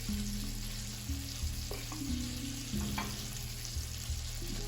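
Butter, one and a half sticks, melts in a preheated pan over medium heat for seviyan kheer, giving a low, steady sizzle with faint bubbling pops, alone and without voices.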